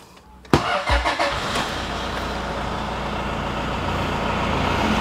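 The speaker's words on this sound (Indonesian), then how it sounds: "Saya akan start up." A 2011 Toyota Kijang Innova G diesel engine cranks and catches after a brief quiet moment, then settles into a steady, close diesel idle.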